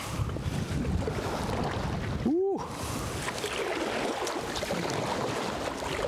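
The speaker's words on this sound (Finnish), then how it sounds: "Paljon mukavampi sitten meloa." Someone paddles a kayak on a lake in Nuuksio National Park. Steady, gusty wind buffets the microphone nearby throughout, and a single sharp swoosh passes midway.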